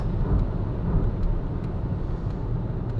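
A Peugeot 208 with an automatic gearbox cruises at around 160 km/h, a continuous low rumble of road and wind noise heard from inside the cabin, steady and unbroken.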